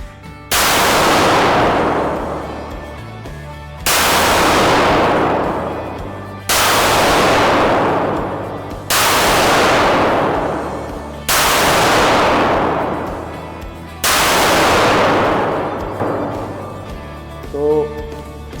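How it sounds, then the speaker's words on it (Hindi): Stallion revolver fires six nitro proof test cartridges remotely: six loud, booming single shots spaced roughly two to three seconds apart, each with a long echoing decay, and a brief sound at the end. "अभी हम रेडी हैं 6 कार्ट्रिज नाइट्रो प्रूफ टेस्टिंग के रिमोटली फायर करने के लिए।"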